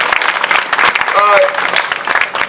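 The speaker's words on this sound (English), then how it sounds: "You can give that a round of applause" An audience at a library historical marker unveiling in Cleveland claps for a community advocate, a dense burst of hands close and loud, with a voice talking through the clapping.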